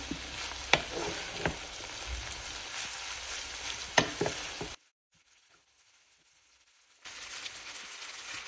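Pasta is stirred in a sizzling pan, with a steady frying hiss and scraping stirs for several seconds, then a short silence, then the sizzle resumes; no voices.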